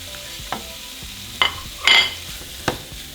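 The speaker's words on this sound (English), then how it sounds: "once it's hot, we're going to throw in our pieces of bacon" Bacon sizzling in a hot pan, a constant crackle with a few sharp clinks and scrapes of a utensil stirring.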